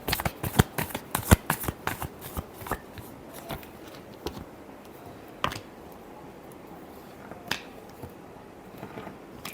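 Tarot cards riffled and shuffled in a quick burst of crisp flutters and snaps, then a few sparse taps and flicks close by, alone without talk.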